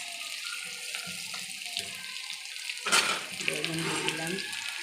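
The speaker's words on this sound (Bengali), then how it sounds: "আমি প্রথমে উচ্ছে দিলাম, সেই তেলেই বড়িও দিয়ে দিয়েছি, সেইটা ভেজে নিয়ে আগে। তারপর আলু দিয়ে দিলাম" Bitter gourd, lentil dumplings and potatoes fry in oil, giving a close crackling sizzle with stirring clatter and a louder burst of spitting midway.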